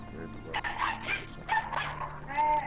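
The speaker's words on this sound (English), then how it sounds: "Okay, that's a rather annoying bark." A dog in a video game barks repeatedly in short yelping bursts, fairly close and sharp, with steady game background noise underneath.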